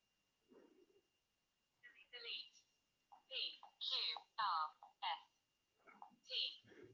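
A synthetic voice on an Emporia easy-to-use T9 keypad phone reads typed letters aloud, in short separate bursts that come one after another at close range, with no other sound.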